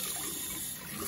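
Tap water runs in a steady, soft broadband wash while fingers are rinsed, continuous and unbroken for the short moment, with no voices.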